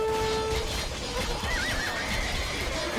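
A horse in the video game Age of Empires II whinnies and neighs amid busy battle noise with hoof clatter, the cry rising clearly over the dense background.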